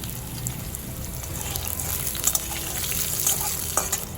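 Diced potatoes lightly salted and frying in a pan, a steady moderate sizzle with scattered crackles and a few clicks of stirring.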